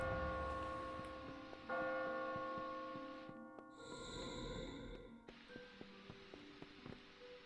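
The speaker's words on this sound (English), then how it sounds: "Use bell rope." A church bell in the Kingdoms of Amalur video game tolls after the bell rope is pulled, ringing with long sustained resonant tones that decay slowly and overlap other quieter game sounds. No one talks.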